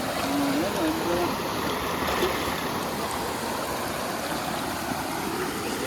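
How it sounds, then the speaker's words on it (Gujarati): A clear stream coming down from the hills rushes and burbles steadily, a constant close flowing sound from start to finish. "મસ્ત પાણી જાય છે."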